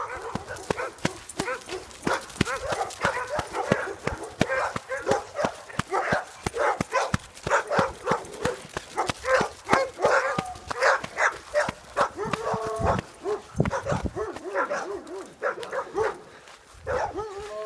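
A husky barks repeatedly in short, irregular bursts of yips and barks, close and fairly loud, mixed with clattering knocks throughout.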